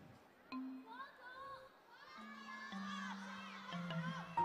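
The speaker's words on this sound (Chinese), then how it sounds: "我们掌声有请黄嘉欣。" Audience at a 2016 Super Girl singing-contest fan event in Haikou, with a crowd cheering and high voices shouting and squealing, building louder over several seconds at a moderate distance.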